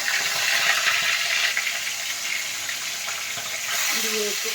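Fish dropped into hot oil for frying in a home kitchen, a loud, steady sizzle and crackle that runs throughout with little change in level.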